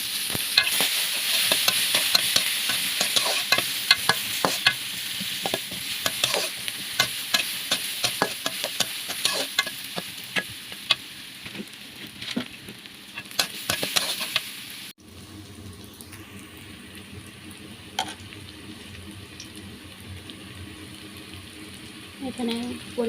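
Whole garlic cloves, onion and bay leaves fry in hot oil with a steady, close sizzle and frequent stirring clatter; after a brief drop the crackle settles into a softer, quieter hiss.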